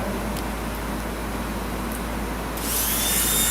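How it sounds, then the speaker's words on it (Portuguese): A Maxi-Cut dental bur grinds heavy condensation silicone impression material for a reline, a steady high whine under a low hum that swells into a brighter, harsher grinding near the end. "a Maxi-Cut desgasta a silicona pesada"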